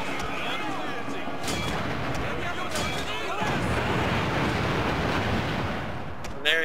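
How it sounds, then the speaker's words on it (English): Archer units loosing volleys in the battle game Shogun II, a dense continuous roar of arrow fire and battle noise with sharp cracks layered over it and a voice talking throughout. "Very loud noises made by their archer units."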